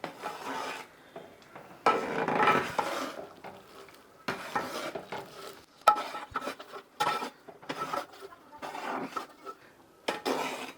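Cashews and dried fenugreek leaves being stirred into a thick chicken and chana gravy, with a spoon repeatedly scraping and rasping against the pot in short bursts, close and fairly quiet, with no talking.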